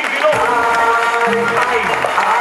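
Applause and crowd noise at a comedy show, a continuous loud wash of clapping and cheering with a voice and musical tones mixed in over it.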